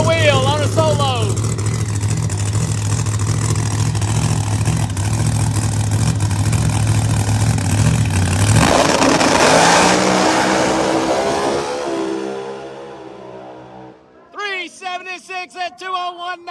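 A Pro Mod drag race car launches down the strip at Empire Dragway, its loud engine note climbing and then fading into the distance, followed by a commentator talking over crowd noise.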